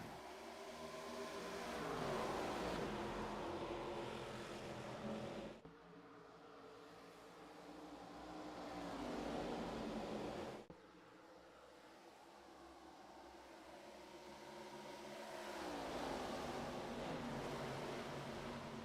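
Race cars pull away at the green flag at Texas Motor Speedway, their engines swelling and fading in long passing waves, rather faint and distant, with brief gaps between passes.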